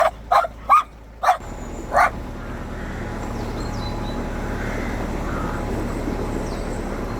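A dog barks five times in quick succession, close and sharp, then falls quiet as a steady outdoor background noise carries on.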